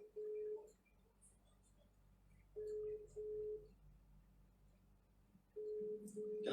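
A telephone dialing out, with short steady tones that sound in three separate bursts spaced a few seconds apart over a quiet background, ending in a brief louder clunk.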